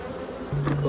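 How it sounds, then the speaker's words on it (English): Honey bees hum on frames lifted from a hive during a split, a dense close buzz with a steady droning tone that swells louder midway. "I need to throw another two frames of bees."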